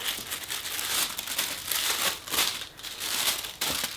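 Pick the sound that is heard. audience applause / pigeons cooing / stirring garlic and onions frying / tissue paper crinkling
tissue paper crinkling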